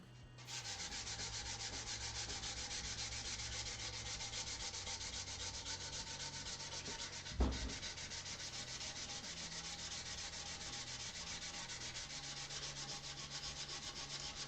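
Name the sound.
fine sanding wood by hand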